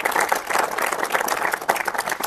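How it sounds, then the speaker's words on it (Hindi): An audience at a hospital team session gives loud, close applause for the staff, a short burst of brisk, uneven clapping with a few sharper individual claps standing out. "पूरी टीम के लिए जोरदार तालियां मेरी तरफ से"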